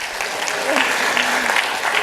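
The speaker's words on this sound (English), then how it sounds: "Let's have a hand of applause for the National Constitution Center." Audience applause at the National Constitution Center, a full house clapping in a steady, loud wash with faint voices mixed in underneath.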